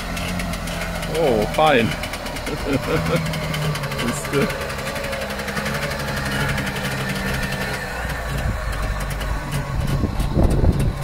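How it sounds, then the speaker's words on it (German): A Trabant 601 car driving out, its small two-stroke engine buzzing and puttering steadily nearby, with people talking over it. "jetzt fährt der Trabi raus"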